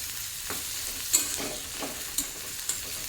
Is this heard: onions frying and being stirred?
yes